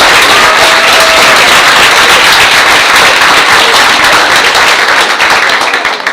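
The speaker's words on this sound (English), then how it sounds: "let's have a round of applause for their perfect season." A school board meeting audience gives loud, dense, sustained applause for a team's perfect 10-0 season, continuous clapping that fills the whole stretch before easing slightly at the end.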